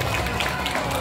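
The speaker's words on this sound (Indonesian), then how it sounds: "tepuk tangan" An audience claps at a village school farewell event for sixth-grade students, a brief, dense and steady burst of applause from a crowd.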